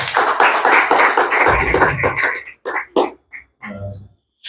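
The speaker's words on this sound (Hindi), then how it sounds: "एक बार इनके लिए ताली बजा दो।" A live stand-up comedy audience bursting into dense applause, loud and close, then thinning to scattered claps and a few noises.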